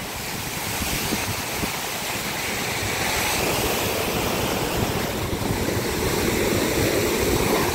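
Large, swollen sea waves pound a shore with boats pulled up nearby, giving a loud, continuous roar of surf and wash that builds slightly over the span, with no talking.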